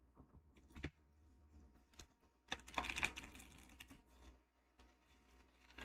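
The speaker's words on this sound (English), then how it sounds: "when you shuffle like this and try to bridge them up, they don't want to bridge up" Tarot cards being shuffled and bridged by hand, giving quiet irregular riffling and soft slaps that swell into a denser flurry midway, close and fairly faint with no talking.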